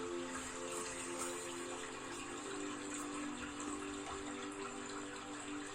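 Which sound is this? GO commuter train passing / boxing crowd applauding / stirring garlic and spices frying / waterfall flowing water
waterfall flowing water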